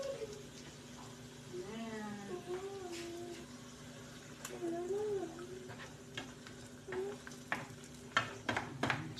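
An egg sizzles and fries with bitter gourd in a pan, a steady soft crackle under occasional scrapes and clinks, while a voice talks intermittently over it.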